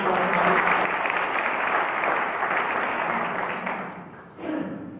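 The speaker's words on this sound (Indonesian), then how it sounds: "Berikan tepuk tangan buat Tuhan" A congregation at a prison ministry service in Cipinang breaks into strong applause for God, a dense burst of clapping that fades toward the end before a brief renewed surge.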